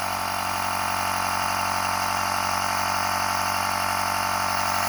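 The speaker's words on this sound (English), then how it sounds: "The little air pump would actually pump faster if I actually started the vehicle" A small portable air pump inflates a car tire while the vehicle sits with the key in accessory and the engine off, giving a loud, steady mechanical drone with a constant hum and no pauses.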